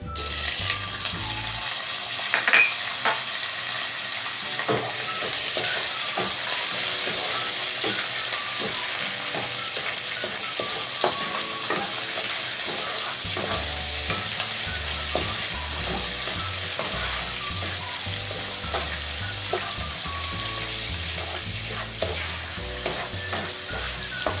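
Butter and thin vermicelli noodles sizzle steadily in a frying pan while being stirred, with frequent scraping and clinking strokes over a continuous close frying hiss and no talking.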